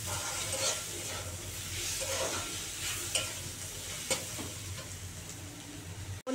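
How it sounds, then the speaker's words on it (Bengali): Fish curry masala with cumin and coriander powder sautés in a pan with a constant close sizzle, while a spatula scrapes and stirs with a few sharper knocks. "দিয়ে এবার এটাকে সুন্দর করে কষাবো"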